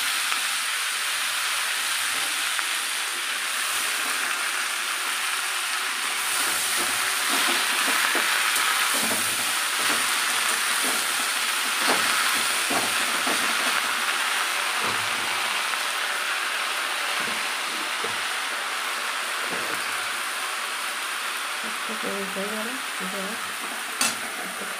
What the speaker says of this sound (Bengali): শাকটা করে আগে ভেজে দেবো।